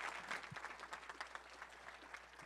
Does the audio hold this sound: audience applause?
yes